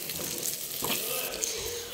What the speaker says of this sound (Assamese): অলপ ৰঙচুৱা হোৱাকৈ মচমচীয়া হোৱাকৈ মই গাই ঘিউত ভাজি লৈছোঁ